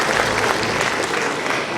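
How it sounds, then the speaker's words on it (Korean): An audience gives dense, continuous applause at a year-end political party ceremony in Hongseong, with no voices heard over the clapping. "큰 박수 부탁드립니다."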